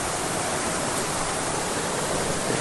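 A waterfall in the middle of a forest roars as a dense, constant rush of falling water, loud and steady throughout.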